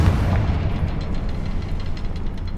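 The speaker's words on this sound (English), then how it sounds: "Confringo!" A Confringo fire spell blasts in Hogwarts Legacy, giving a loud, deep booming explosion with a rolling rumble that stays heavy and sustained across the whole moment, no talk over it.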